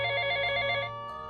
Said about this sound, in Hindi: फ़ोन फिर बजा,